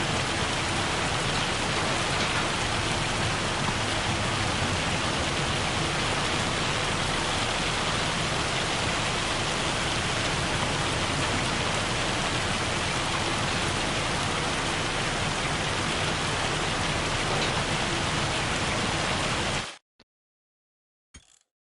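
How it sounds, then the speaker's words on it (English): Heavy rain falling in a farming simulator game, a dense, steady roar of downpour that holds constant for about twenty seconds before cutting off abruptly into silence. "Oh, look how hard it's raining now."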